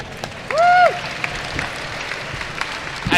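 A crowd at the WCA Euro 2018 speedcubing championship finals applauds a competitor from the United States, with steady clapping throughout and a short rising-and-falling whistle near the start.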